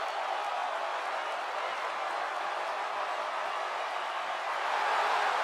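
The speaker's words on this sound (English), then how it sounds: "The crowd is on their feet." Wrestling crowd on their feet at a live show, a steady, dense roar of cheering voices filling the arena, holding constant throughout and swelling slightly louder near the end.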